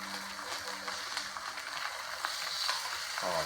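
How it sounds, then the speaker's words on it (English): Steady, crackling sizzle of home-cured smoked bacon frying in a pan, close and continuous with scattered pops, ending in a brief louder scrape. "We got a good sizzle going on here."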